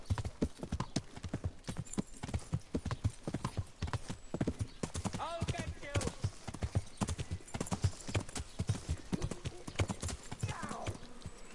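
A horse gallops in Kingdom Come: Deliverance, its hooves drumming in a fast, steady rhythm close by, with a whinny partway through while someone talks over the ride.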